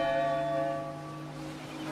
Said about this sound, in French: il entendit aussi la première cloche